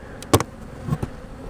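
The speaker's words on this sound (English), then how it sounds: "this is a hot hive, I noted. They're already all over me." Honey bees swarming around an opened, defensive hive during a honey super inspection, buzzing close by in short bursts with a steady insect drone underneath.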